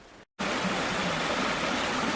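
A small normally dry stream along a track near Lake Rotoroa in Nelson Lakes National Park, swollen after heavy rain, flowing in a steady close rush of water with no talk.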